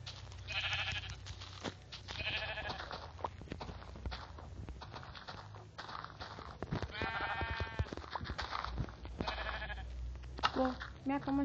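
Small sheep bleating in a Minecraft-style survival video game, several short bleats scattered among footsteps and other game sounds, with a person talking over much of it.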